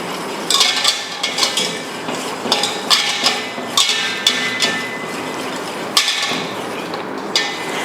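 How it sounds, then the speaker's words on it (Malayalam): Eggless cake batter being stirred with half a cup of vegetable oil in a bowl, a series of sharp scraping and tapping strokes of a spoon against the bowl in an uneven rhythm, close and fairly loud. "വീണ്ടും എല്ലാം കൂടി ഇളക്കി കൊടുക്കുക"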